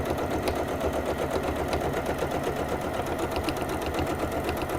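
A sewing machine stitches a zipper pouch at a steady, close, rapid mechanical chatter. The even rhythmic hum runs unbroken throughout with no voices.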